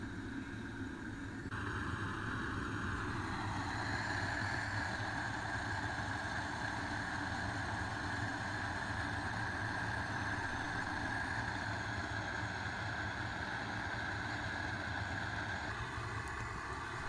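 Propane burner flame roaring steadily during a raku pottery firing, a continuous low rumbling roar with a hissing edge that shifts in tone as the flame is adjusted, running unbroken for the whole stretch.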